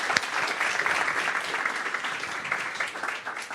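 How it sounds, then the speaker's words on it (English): Warm audience applause at the close of an academic seminar talk, dense, continuous clapping from a seated crowd that holds steady and tapers slightly at the end. "Let's give him a warm applause."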